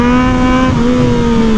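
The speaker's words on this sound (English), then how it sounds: "I just yank my throttle and the front wheel goes up." Yamaha MT-09 motorcycle engine revving hard for a wheelie, a loud, steady, harmonic engine drone that holds high throughout and shifts pitch slightly midway, close and with no voices.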